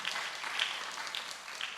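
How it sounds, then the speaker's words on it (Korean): A classroom of people applauds in a short, steady burst of close, dense clapping that holds evenly for about two seconds. "박수."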